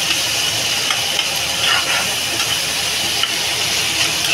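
Pointed gourd pieces fry in a pan for a deep reddish colour with a steady, loud, even sizzle that holds without pause from start to finish.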